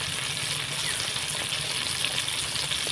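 Cumin paste, ginger paste and tomato fry in oil as the spices are stirred, giving a steady, close, even sizzle with no pauses and no voices.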